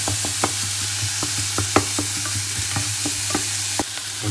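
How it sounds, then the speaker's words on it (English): Onion and garlic frying in a pan while a spoon stirs them, with repeated scraping clicks over a steady sizzle and a low background hum; no one speaks. "now just stir just a little bit so the onion becomes transparent"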